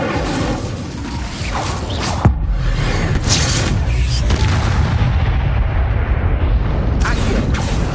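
Spell effects in Hogwarts Legacy, including the Incendio fire spell, sound as heavy booming whooshes and rumbling bursts, with a sharp impact partway through under a dense, loud game soundscape.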